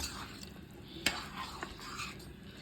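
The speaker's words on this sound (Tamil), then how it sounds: "அரிசியை சேர்த்துட்டு நம்ம கிண்டி விடலாம்." Rice stirred into a pot of vegetable biryani with a spoon, soft scraping and sizzling close by, one sharp clink of the utensil against the pot partway through, no talking.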